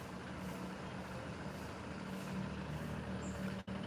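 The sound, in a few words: vehicle passing on the road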